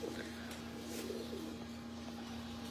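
Pigeons in a Lahore rooftop loft give faint, low coos that blend into a steady wash of ambient noise and a continuous hum.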